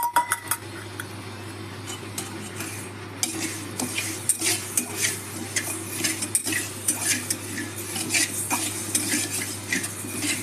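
Coriander and cumin seeds dry-roast over a low flame as a metal spoon scrapes and clinks steadily against the pan, producing dense, rhythmic stirring close up with no talking.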